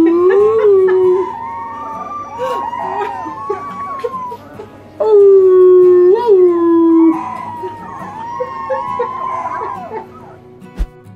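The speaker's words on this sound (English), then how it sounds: "These Rottweiler siblings gather in a heartwarming choir of hungry howls" Rottweiler puppies howl together in a close, loud chorus of wavering, overlapping howls that rise and fall over several seconds, with brief pauses between bursts.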